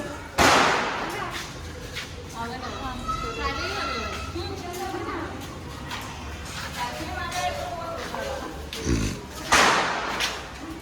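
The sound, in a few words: firecrackers bursting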